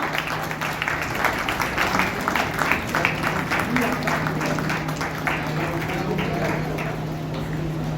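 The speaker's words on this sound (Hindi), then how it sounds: "इसके लिए तो जोरदार तालियां होनी ही चाहिए" Sustained audience applause at a summer youth training camp, steady dense clapping filling the whole stretch with a constant low hum underneath and some crowd noise.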